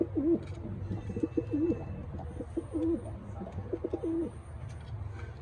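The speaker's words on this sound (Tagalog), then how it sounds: "Milk pigeon to mga kalapatids." Milk pigeons coo repeatedly in soft, throaty rolling calls close by, with faint chirps and background noise between them.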